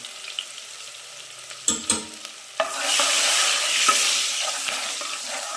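Onion, carrot and capsicum for pav bhaji hit a hot pan after a couple of clanks, then fry with a loud, steady close sizzle and occasional stirring scrapes.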